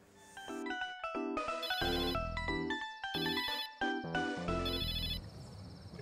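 A telephone ringtone plays loudly and continuously as a bright, repeating electronic melody, with no voices over it.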